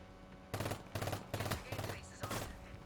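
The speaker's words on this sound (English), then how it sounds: "And burst firing is also very easy, of course, thanks to the attachments I have" Uzi Pro submachine gun fired in short bursts in Payday 3, five quick bursts of rapid gunfire at a steady rhythm, loud and close.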